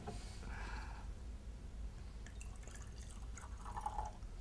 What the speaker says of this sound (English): So, Tony, what about putting your hand on that bottle and pouring a lovely Gewürztraminer?